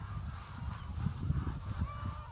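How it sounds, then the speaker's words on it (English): Raucous calls of laying hens overlap in a continuous chorus, a flock squawking and honking together at moderate distance, on a farm with cattle. "you can hear the chorus behind me, the chickens."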